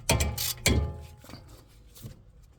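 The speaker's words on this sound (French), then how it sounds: "avec un embout H6, tu viens desserrer la vis qui maintient le disque" A screwdriver with an H6 bit loosens the centering screw holding the brake disc on a BMW F30, giving two loud close ratcheting bursts followed by fainter clicks and scrapes.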